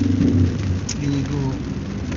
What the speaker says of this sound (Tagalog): lumakas ng ulan.